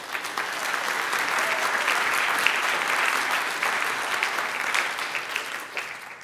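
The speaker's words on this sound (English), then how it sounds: "I think that deserves a round of applause for that one" Steady applause from a school choir concert audience fills the room after a performance, a sustained dense clapping that holds level for several seconds.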